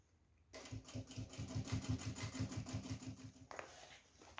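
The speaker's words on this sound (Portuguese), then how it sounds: "Devagarzinho, porque é costura de acabamento, precisa ficar bonitinha." A sewing machine runs steadily, stitching slowly along a finishing seam on a handmade bag, its rapid even needle rhythm close and clear for about three seconds before stopping, with no talking.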